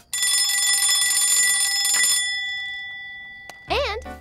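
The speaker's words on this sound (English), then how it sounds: "An alarm clock to make sure we don't take too long." A cartoon alarm clock gives a loud, continuous metallic ringing that lasts about two seconds and then fades away, followed by a brief click and a short burst of a warbling voice.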